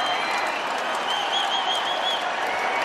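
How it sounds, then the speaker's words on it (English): A basketball arena crowd at an NCAA men's game between UNLV and Nevada cheers and applauds steadily, a dense roar of clapping and shouting that holds at full level with no pauses and a faint whistle rising above it. "And this crowd that came to celebrate this season, many on their feet right now."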